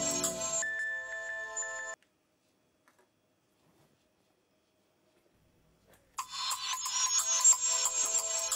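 An incoming-call ringtone sounds from a phone during a Pakistani TV drama scene, playing a clear melodic tone alone for about two seconds, falling silent, then ringing again loudly.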